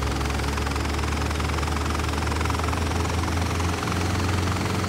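A helicopter engine in Microsoft Flight Simulator X drones continuously, a dense, even whine and thrumming rotor vibration at steady loudness throughout, with no talk.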